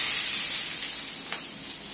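Onions and green chillies hissing and sizzling in hot groundnut oil in a kadai, a close, steady frying sound that softens slightly over its brief span.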